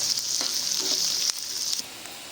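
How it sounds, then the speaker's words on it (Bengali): Green chillies and onions sizzling in oil in a pan, a steady bright hiss with a few soft stirring scrapes and knocks, easing off near the end. "তা নিয়ে ভালো করে ভেজে নেব।"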